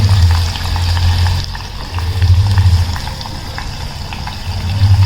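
Ghee cooking down in a heavy-bottomed pot for a temple feast's prasad hisses in a continuous, fairly loud sizzle with a low bubbling rumble that swells and eases in waves.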